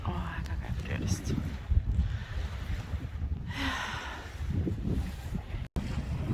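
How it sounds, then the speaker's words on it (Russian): Strong icy wind gusting at sea by a moored boat, a steady close roar of buffeting across the whole stretch, with a person speaking over it. "Такой ветер сегодня просто невыносимый."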